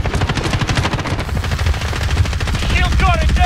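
Rapid automatic gunfire in a Modern Warfare match rattles in dense, loud bursts, with other sharp game effects near the end.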